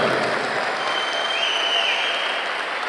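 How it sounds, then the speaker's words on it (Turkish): Steady, dense applause from a large crowd, continuous and even, with no pauses. "Bir gözəl alkışlar gəlsin."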